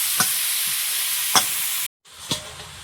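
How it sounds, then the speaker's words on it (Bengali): Potatoes and eggplant frying in a pan, a continuous close sizzle with three sharp spatula scrapes spaced about a second apart and a brief dropout before the last one. "আলু বেগুন, বেগুন আলুটা ভালো করে একটু ভাজবো"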